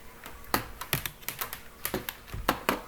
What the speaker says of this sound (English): Go to the right mouse button and click it.